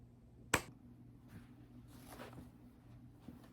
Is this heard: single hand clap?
yes